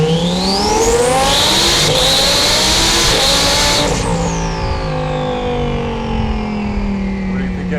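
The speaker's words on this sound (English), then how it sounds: "we're gonna do a little quick rolling pull just to show you guys the power" A twin-turbo Lamborghini STO with a stage 1 turbo kit making about 821 horsepower accelerates hard in a rolling pull, its engine note climbing steadily and loudly, then easing off and fading slightly at the end.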